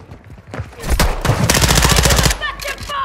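Sustained bursts of automatic gunfire in a multiplayer shooter game, loud and rapid, with overlapping rattling volleys and a chatty voice mixed in before the firing tapers off.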